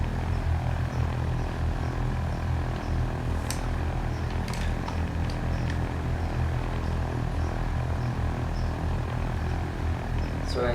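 A Cessna 152's propeller engine drones steadily as the small plane taxis with power added, heard from inside the cabin as a loud, continuous hum.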